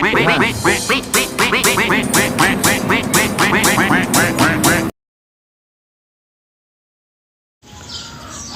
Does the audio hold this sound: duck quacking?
yes